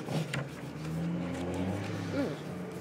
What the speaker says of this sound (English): the tow truck starts carrying a bus outside